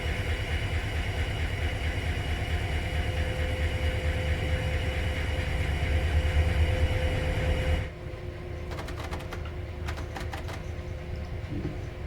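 A low, steady train engine drone in Train Sim World 5 on the San Bernardino Line rumbles continuously for several seconds, then drops suddenly to a quieter hum with faint clicking on top.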